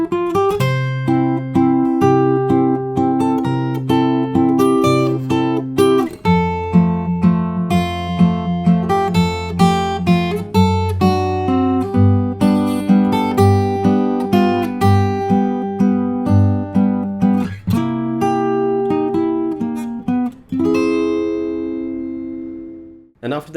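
A continuous fingerstyle guitar melody, a theme from Up, with plucked notes over a bass line, steady and fairly loud, with a brief pause near the end.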